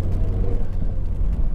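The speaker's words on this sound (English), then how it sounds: "Right, this is a quick road test. This is for a Mazda MX-5." A 2.0-litre Mazda MX-5 Sport roadster cruising on the road, a steady low engine and road rumble heard from inside the car, with no talk.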